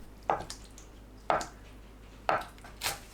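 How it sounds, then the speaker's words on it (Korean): Four separate knife chops slice tofu into bite-size pieces on a cutting board, with short pauses between them, crisp and close with no talking. "두부를 한입 크기로 썰어주세요."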